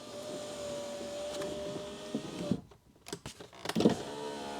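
A power window motor on an older Mercedes S-Class drives the window with a steady whir, then stops, followed by a few knocks and a second short motor run.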